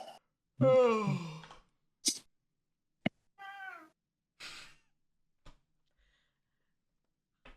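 A cat meows close to a microphone, giving a long, loud meow, then a few shorter, quieter meows and breathy sighs spaced across the silence, along with a couple of small clicks.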